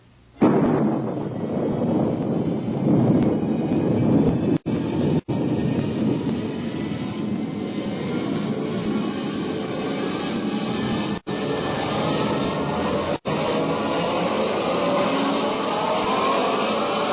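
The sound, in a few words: rocket blast-off roar, radio drama sound effect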